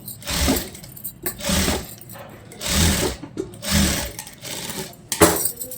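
A computerized sewing machine stitches a blouse sleeve, its motor whirring loudly in several bursts of about a second each, separated by short pauses, with no talking.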